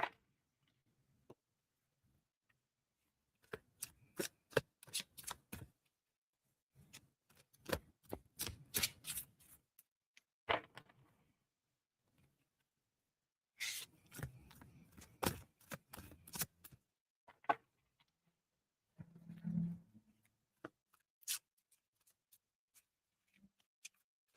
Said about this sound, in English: Can I pull a card for you today, Cecilia?